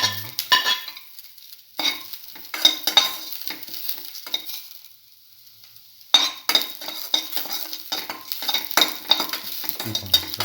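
Garlic fries in a pan for a cinnamon mint potato omelette, an intermittent close sizzle with stirring scrapes and metallic clinks of a utensil against the pan, dropping to near silence midway before the frying resumes.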